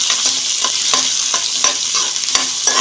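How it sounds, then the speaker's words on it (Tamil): Green and dried chillies being sautéed in a pan for horse gram thogayal: a steady sizzle with a regular scrape of a spoon stirring about every third of a second, loud and close. "இப்போ நல்லா வதக்கிக்கோங்க."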